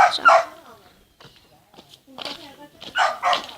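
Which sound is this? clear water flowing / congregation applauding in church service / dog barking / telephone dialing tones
dog barking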